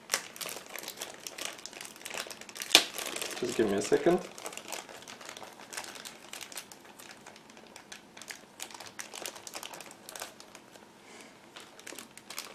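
A plastic bag holding the turret part of a 1/35 Tiger Model AMX-30 B2 Brennus kit crinkles in close, busy bursts with a sharp rustle near the start, while someone talks over it.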